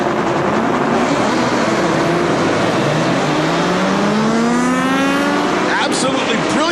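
A pack of race cars, including all-wheel-drive Volvos, accelerates at a Mid-Ohio race start, loud engines climbing steadily in pitch through their gears, with a sharp transient burst near the end.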